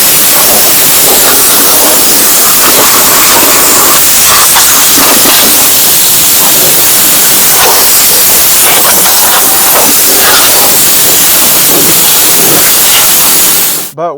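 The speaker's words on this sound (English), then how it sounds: "I'm going to go ahead and use my air compressor and use compressed air and clean this out." Compressed air from an air compressor nozzle blasts gunk out from under the removed cowl of a 2013 Dodge Grand Caravan, a loud continuous hiss lasting about fourteen seconds, close up and alone, cutting off at the end.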